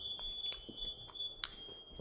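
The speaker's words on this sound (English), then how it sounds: "I don't know who activated the smoke alarm" Short, piercing electronic smoke alarm chirps sound indoors in a house. They come as a few sharp bursts over a faint, steady high tone, with no one speaking.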